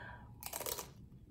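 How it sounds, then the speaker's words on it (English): Close, crisp crunch of someone biting into a chip, a single short crackling bite. "That's a good crunch in the chip."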